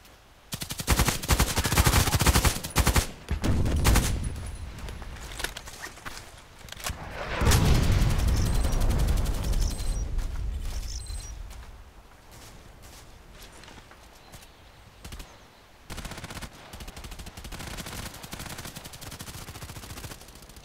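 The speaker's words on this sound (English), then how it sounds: "First grenade, then shooting." Video game combat: a heavy grenade blast swells and fades, surrounded by rapid bursts of automatic gunfire and sharp shots, loud and close, with quieter scattered fire later.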